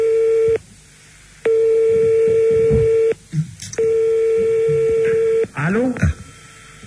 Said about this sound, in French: Tu balances les sonneries.